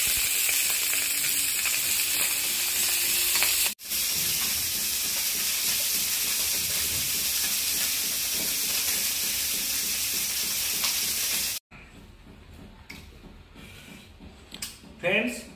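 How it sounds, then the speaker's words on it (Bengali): Morola fish frying in a pan, a loud continuous sizzle and hiss with a brief break, then quieter crackling toward the end. "আবার একটু মোরলা মাছ ভেজে নিচ্ছি।"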